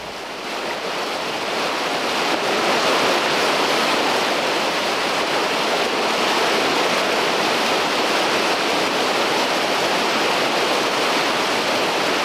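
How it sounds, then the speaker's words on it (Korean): Waterfall at Mount Baekdu pouring down into a valley: a loud, dense, continuous roar of rushing water that holds steady throughout, broad and close, with no voices. "이 폭포수가 계곡을 타고 흘러내려 두만강과 압록강 그리고 송화강의 연원이 됩니다"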